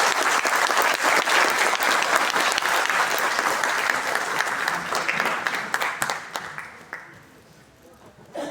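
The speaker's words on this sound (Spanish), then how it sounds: "Recibamos con un afectuoso aplauso a nuestro querido José" A congress crowd gives loud, sustained applause to welcome José Ángel Cueto. The dense clapping gradually thins and fades toward the end.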